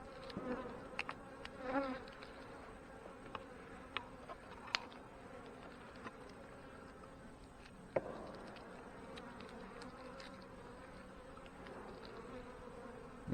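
Honey bees buzz around an open hive during a fireweed honey harvest, a faint, close drone of wings with scattered clicks and light knocks from hive frames.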